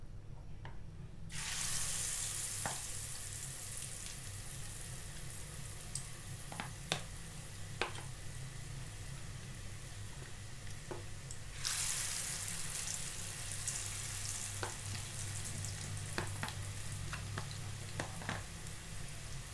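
Vegetables deep-frying in oil for a vegetarian fried papaya salad give off a steady, bright hiss that starts abruptly, holds with scattered pops and surges louder partway through.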